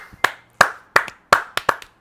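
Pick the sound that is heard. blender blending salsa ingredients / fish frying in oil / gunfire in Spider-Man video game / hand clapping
hand clapping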